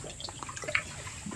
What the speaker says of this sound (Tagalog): Yan yung mahinang alon.